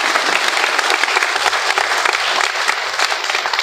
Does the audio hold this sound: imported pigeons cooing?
no